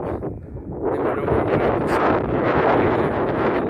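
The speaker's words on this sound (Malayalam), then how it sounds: "കാറ്റുകൾ വീശുന്നുണ്ട്." Wind blows hard across the open hilltop viewpoint near Thekkady and Kumily, a loud, continuous rushing roar that buffets the microphone and swells after a brief lull, with no voices.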